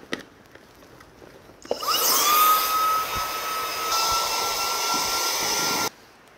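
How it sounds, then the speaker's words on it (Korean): An electric pump switches on with a sudden loud, steady whine and airy rush as it inflates a camping mat, running for about four seconds before cutting off abruptly. "이런 전동 펌프를 사용해서 일정 압력까지는 넣어주고"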